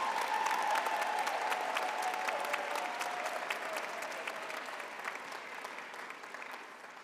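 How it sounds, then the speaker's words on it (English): Audience applause for graduates at a business school graduation ceremony: steady, dense clapping from a large hall crowd, loud at first and gradually tapering toward the end. "Let us give our graduates a big hand for their hard work and perseverance."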